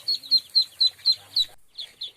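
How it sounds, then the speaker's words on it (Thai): Newly arrived Muscovy ducklings peep while drinking water, a run of six evenly spaced, shrill chirps close by, then a brief pause and two softer calls. "กำลังกินน้ำครับลูกเป็ดเอามาใหม่ๆครับ"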